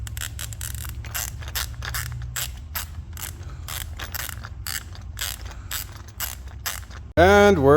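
A hand ratchet tightens screws on a Honda CBR F4i motorcycle fairing, giving close, rapid rhythmic clicking in repeated strokes. A loud tonal sound cuts in abruptly at the end.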